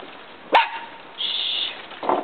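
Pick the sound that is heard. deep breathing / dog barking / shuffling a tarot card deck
dog barking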